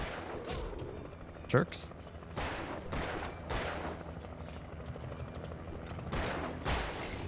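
Shotgun blasts in a horror video game: a sharp, loud burst stands out early, followed by softer booming shots and game ambience, with someone talking briefly over the action.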